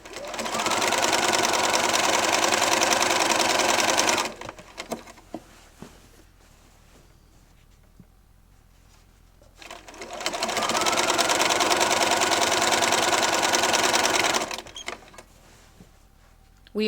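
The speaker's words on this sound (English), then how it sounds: "And I am using my walking foot to do this." A sewing machine fitted with a walking foot stitches a quarter-inch seam on quilt binding, running in two long, steady whirring bursts of about four seconds each, separated by a quieter pause with light handling noise.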